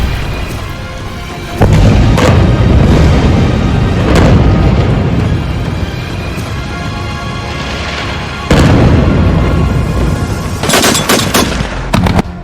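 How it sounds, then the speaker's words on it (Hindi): Blasts from air strikes on northern Gaza, loud, dense booming and rumbling that rolls on continuously, with sudden heavier impacts and a rapid cluster of sharp cracks toward the end. "कल्पना से भी ज्यादा भीषण हवाई हमलों ने उत्तरी गाजा के चीथड़े उड़ाकर रख दिए हैं"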